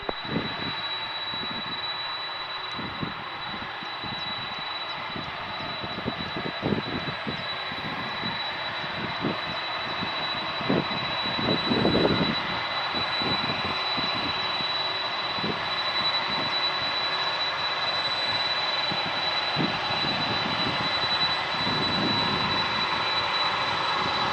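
Virgin Atlantic Boeing 747 jet engines at Manchester Airport, a steady distant roar that swells slightly midway and keeps rumbling through, with no voices.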